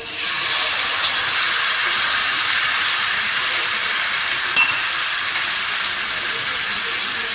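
Tamarind paste goes into a pan of browned onions and cumin and sets off a loud, steady hiss of sizzling that holds evenly throughout, with one small knock near the end.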